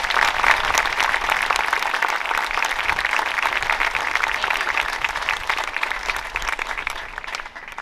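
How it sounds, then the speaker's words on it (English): Steady applause from an audience at a WWII memorial dedication, honoring a World War II veteran, dense clapping holding at an even level for several seconds before tapering slightly at the close. "Please give him a round of applause."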